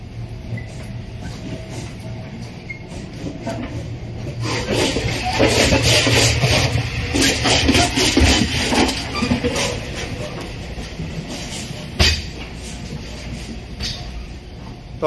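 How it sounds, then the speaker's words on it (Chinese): A passenger train rolls along the rails with a steady, loud rumble and rattle from inside an empty carriage, swelling midway and followed by a sharp clack; no one speaks. "我在坐火车"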